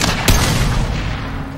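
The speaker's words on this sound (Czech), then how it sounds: "útočná puška je nějaká divná. Nemá to ani automatiku, ani střelbu dávkou." A single loud shot from an assault rifle in the video game Mass Effect 2, a sharp close crack over a dense rumbling game background.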